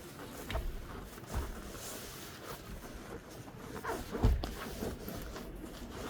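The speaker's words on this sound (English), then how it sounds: "Now we're gonna stress the zippers because we have to fold it over." Zipper being pulled on a leather seat cover for a Nissan Titan, a few short scraping zips with soft handling rustle in between, close and fairly quiet.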